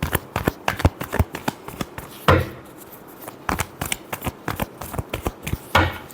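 Tarot cards are shuffled by hand in quick rhythmic bursts of papery riffles and taps, with a few louder slaps as the deck is squared, close and clear.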